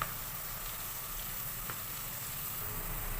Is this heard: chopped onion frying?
yes